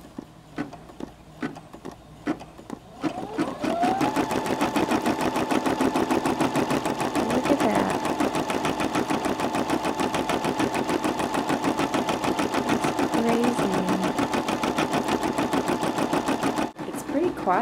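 Embroidery machine stitching at home: after a few separate clicks it starts up into a rapid, steady mechanical ticking and whirring pulse, close and continuous for over ten seconds before stopping abruptly, with occasional faint talk.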